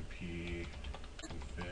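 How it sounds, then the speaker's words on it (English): Keys clacking on a computer keyboard while a command is entered at a Windows Server 2003 command prompt, several quick close taps with a faint tonal hum and a voice-like murmur in the background. "we're going to go to run and type in CMD for our command prompt"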